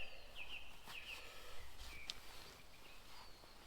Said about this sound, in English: it's just beautiful getting woken up by the noise of the birds